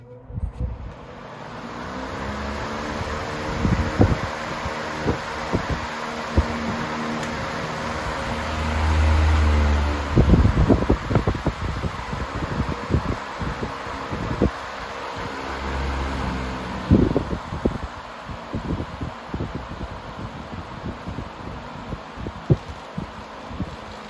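An electric fan from the early 2000s with a McMillan motor runs on high, giving a steady motor hum and whooshing airflow, with repeated sharp clicks and rattles over it.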